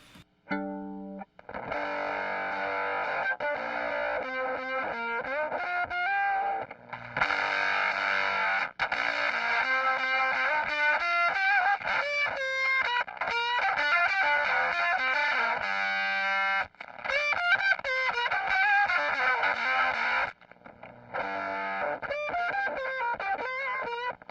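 A harsh, biting electric guitar through a Fender Blender fuzz pedal plays alone: bright, aggressive riffs and sustained notes with brief pauses between phrases.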